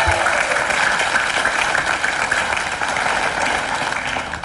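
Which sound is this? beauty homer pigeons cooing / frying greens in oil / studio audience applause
studio audience applause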